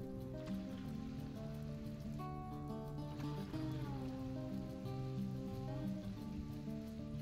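Steady rain falls, a constant dense patter on surfaces with a low background hum throughout.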